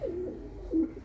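Pigeons kept for sale give soft, low cooing calls, two or three rolling coos close by with a brief pause between, no voices present.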